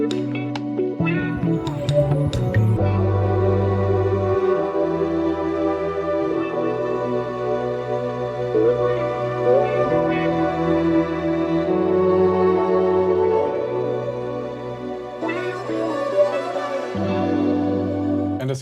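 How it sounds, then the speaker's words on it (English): A simple wah guitar melody plays a few short riffs inside an R&B sample, over sustained chords and a steady low bass. The mix is full and continuous, with no voices. "And then I added a very simple wah guitar melody,"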